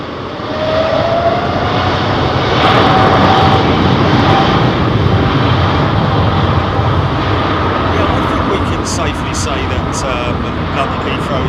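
A close-up airliner taking off at London Heathrow Airport gives a loud, sustained jet roar that swells and holds for several seconds, with voices talking over it.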